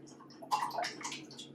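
Water pours into a bowl of sourdough dough ingredients, a light splashing trickle that starts after a quiet moment and runs steadily, close and fairly soft.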